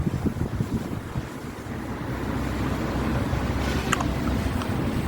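Steady outdoor wind rushing and buffeting across a microphone while a JJRC X25 GPS drone flies, continuous and fairly loud with no talking.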